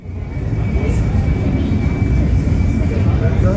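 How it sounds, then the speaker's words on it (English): A British Airways airliner departs London City Airport, its engines a loud, steady low roar with broad rumble heard from nearby on the ground. "British Airways departing London City Airport."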